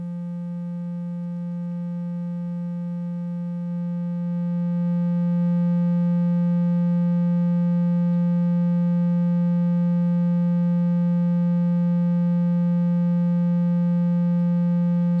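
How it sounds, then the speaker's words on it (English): A basic synthesizer triangle wave routed through a matrix mixer, a steady sustained pitched tone that grows louder partway through as a channel is turned up, with no talking. "So it's just a basic triangle wave."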